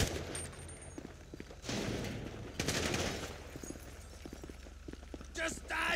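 Gunfire in the video game Grand Theft Auto V sounds as quick, fairly faint bursts and rattling shots beneath shouting voices, with a steady low rumble underneath.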